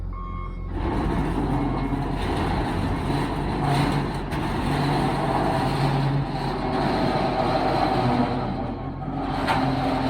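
A heavy machine lifts a scrap car by its rusty frame on a property clearing vehicles for the crusher, with a loud continuous diesel engine drone and a reversing beep, close and without talk.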